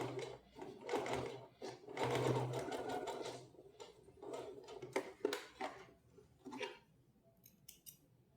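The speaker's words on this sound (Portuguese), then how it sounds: "eu vou bater uma costura rente aqui" A sewing machine runs in bursts, stitching a close seam along the edge of dress fabric, with short pauses, a few sharp clicks and scissor snips between the runs.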